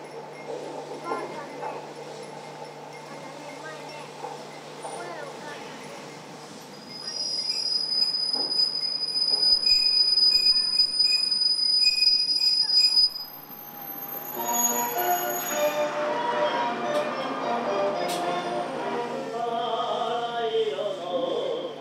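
A Nagano Electric Railway limited express train rolls into Yudanaka terminal station with squealing wheels and a ringing welcome melody, brakes hissing as it slows to a stop, with faint announcements in the background.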